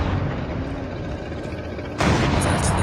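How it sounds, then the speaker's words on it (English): Gunfire in the mobile game Call of Duty Mobile, a dense, steady rattle of shots that jumps louder near the end, with no talking over it. "I think he might be shooting at me."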